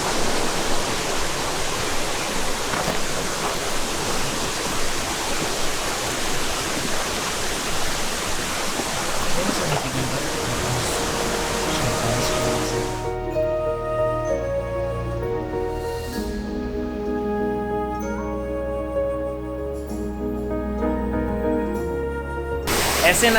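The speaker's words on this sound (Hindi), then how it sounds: "ऐसे न जाने कितने वाटरफॉल्स जाके पिंडारी नदी में मिलते हैं" Waterfall pouring into the Pindari river on a mountain trek, a dense roaring rush of water for about thirteen seconds, then music takes over.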